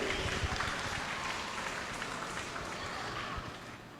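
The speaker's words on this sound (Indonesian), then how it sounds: "Boleh tepuk tangannya sekali lagi." Audience applause at the opening ceremony of a Hindu youth jamboree (Jambore Pasraman) at Graha Sabha Pura Aditya Jaya, Rawamangun, Jakarta: steady, dense clapping filling the hall for several seconds, tapering slightly at the end.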